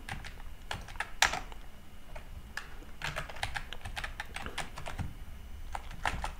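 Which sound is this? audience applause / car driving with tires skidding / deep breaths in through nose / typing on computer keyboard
typing on computer keyboard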